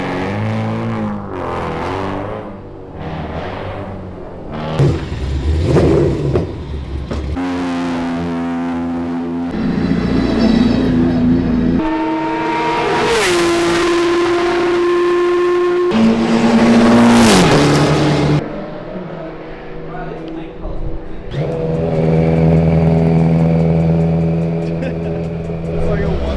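BMW and Toyota Chaser race cars lap a track during a hot-lap session, engines revving loudly through rising gear pulls, shifts and passes, near and continuous.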